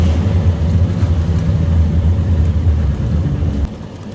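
Engine of a Tiara 38 LS boat idling, a loud steady low rumble held close and constant, easing slightly in level near the end, no voices.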